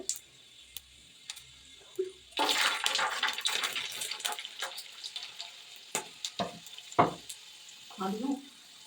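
Fennel, mustard seeds and black pepper crackle and splutter in hot oil in a Kerala kitchen, with dense popping bursts and intermittent sharp spits, fairly close, with no speech.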